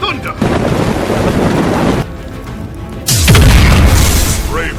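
Heavy thunder booms roll out in two loud bursts separated by a quieter stretch, with a rain-like hiss underneath the rumbling cracks.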